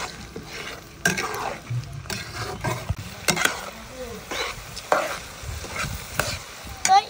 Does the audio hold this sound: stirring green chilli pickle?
yes